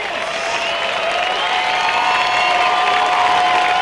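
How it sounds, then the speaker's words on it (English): Arena audience at a 1992 freestyle world finals cheering and applauding after a routine, a steady, dense roar of clapping and voices from a large crowd. "And the crowd loved it."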